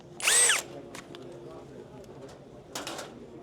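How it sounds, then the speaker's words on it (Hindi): A cordless battery-powered drill at the International Hardware Fair India 2024 in Pragati Maidan, Delhi, whirs in a short loud burst, then briefly again near the end, amid faint hall background sounds. "ये फर्स्ट हमारा ड्रिल में हो गया है। ड्रिल है।"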